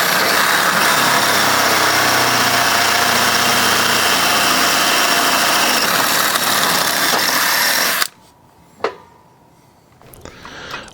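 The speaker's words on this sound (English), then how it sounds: "We used a 3/16" twist drill to make the pilot hole in the jack tube" A 3/16-inch twist drill bores a pilot hole in the steel jack tube of a Husky Brute trailer jack while fitting a Superfoot. The loud, steady motor whine runs for about eight seconds, then cuts off, followed by a couple of faint knocks.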